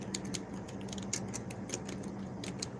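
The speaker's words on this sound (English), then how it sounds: "if you hear typing, I am typing up today's closing remarks about what I learned from here" Keys tapped on a computer keyboard in quick, uneven bursts of light clicks. The typing is fairly soft over a steady low background hum.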